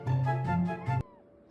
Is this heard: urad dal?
no